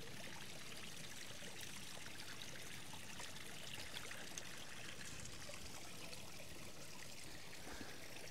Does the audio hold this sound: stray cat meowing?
no